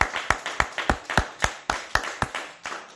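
A church congregation claps in a steady, brisk rhythm, about four sharp hand claps per second, close and loud throughout with no voices.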